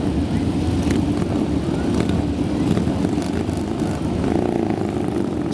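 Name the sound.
motorcycles riding in a display arena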